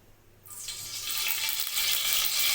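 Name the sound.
white cooking oil heating in a kadai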